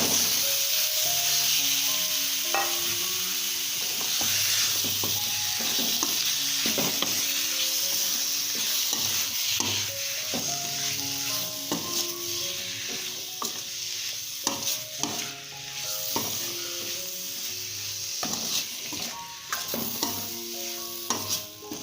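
Marinated chicken sizzles in a pan for Kerala-style chicken puttu, with a steady frying hiss and repeated scraping stirs of a spoon. A soft melody plays in the background.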